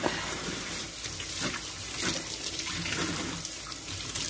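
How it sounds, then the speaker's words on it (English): Tap water runs steadily into a sink during hand washing in a kitchen prepping beef tamales, a continuous close splashing hiss without a break. "So I'm going to wash my hands."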